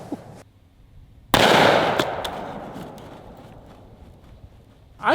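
A single loud shot from a hand cannon firing a 400 grain hollow point round cracks sharply at an outdoor range. Its boom rolls off in a long, fading echo, and a brief voice is heard just after.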